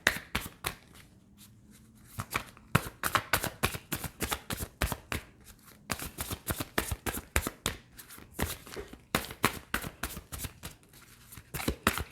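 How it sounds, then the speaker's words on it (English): Tarot cards are shuffled again and again at close range, giving quick bursts of crisp riffling snaps separated by short pauses, quiet and with no talk over them. "This is the longest shuffle of life."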